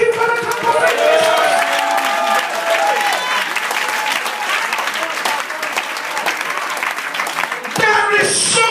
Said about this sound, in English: can somebody give God a clap of praise?